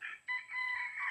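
A rooster crows loudly and close by on a chicken farm in Maragondon, Cavite, in one strained, wavering call that breaks briefly partway through. No people are talking.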